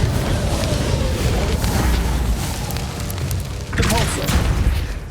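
Incendio fire spell from Hogwarts Legacy erupting in a sustained, roaring burst of flame and booming blasts that fill the entire stretch, loud and dense throughout.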